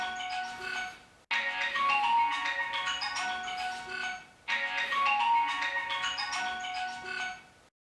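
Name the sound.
mobile phone ringing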